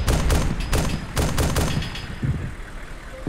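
Gunfire in the Arma 2 Wasteland mod: several sharp, loud shots in quick bursts with booming tails, fading toward the end.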